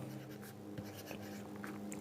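A pen scratches across paper in a quiet room, making soft, close strokes of handwriting in a short, continuous run.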